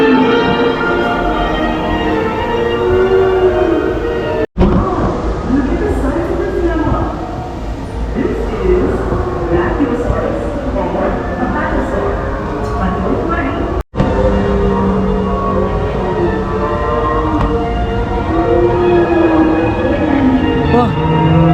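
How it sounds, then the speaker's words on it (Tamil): A ride train at an amusement park in Bangalore rumbles and clatters as it starts and runs, loud and continuous with rhythmic rolling noise and brief cuts, while voices chatter over it. "நம்ம ட்ரெயின் ஸ்டார்ட் பண்ணியாச்சுங்க"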